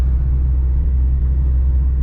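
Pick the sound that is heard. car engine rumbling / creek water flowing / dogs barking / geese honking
car engine rumbling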